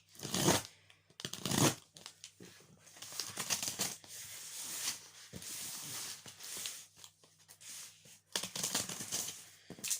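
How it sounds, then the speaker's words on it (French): Close scraping, rustling and cutting noises of scissors working through a cardboard parcel box, irregular and busy, with short pauses between bursts. "j'ouvre la boîte avec les ciseaux"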